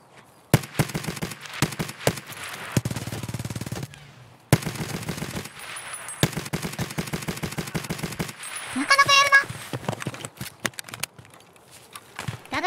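SMG gunfire in Escape from Tarkov comes as several rapid bursts of sharp automatic shots, broken by short pauses and mixed with a few game sound effects, close and fairly loud.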